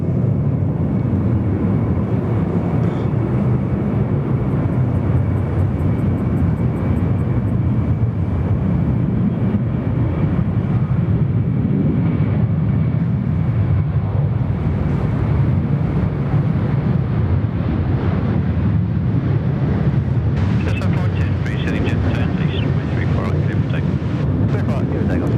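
A USAF KC-10 tanker jet roars continuously on the runway at Sydney Airport, a loud, steady engine rumble mixed with gusting wind noise on the microphone throughout.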